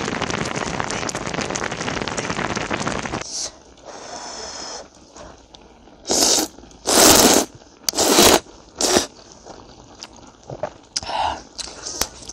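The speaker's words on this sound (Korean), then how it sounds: "보글보글 ASMR 들려줄까?" A pot of beef-bone broth stew with rice cakes, dumplings, kalguksu noodles and ramen bubbles busily at close range, a dense crackling simmer, followed by quieter stretches broken by several short rustling bursts.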